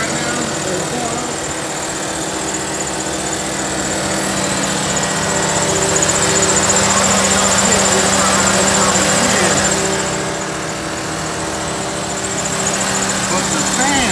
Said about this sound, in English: You hear the fan right now?